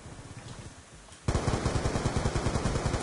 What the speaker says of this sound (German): Ich schieß mal so um mich herum.